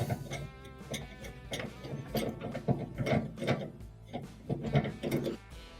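Mounting screws being backed out of a bracket holding a range or oven gas pressure regulator, giving close repeated ratcheting, gear-like clicks in a steady rhythm, with no talking.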